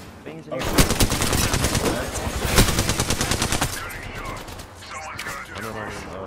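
Video game gunfire in a ranked shooter match: dense rapid automatic bursts with sharp repeated shots for several seconds, then quieter mechanical clicks and scattered fire.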